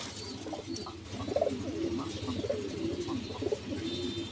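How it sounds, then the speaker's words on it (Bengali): Kagoji pigeons cooing in a pigeon market setting, repeated soft low coos in a loose rhythm, fairly close over a quiet background hum. "কাগজি কবুতর"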